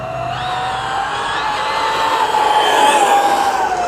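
A 6S-powered FMT10 RC truck runs at almost full power, its motor whine loud and steady throughout with a rising electric pitch and no talking.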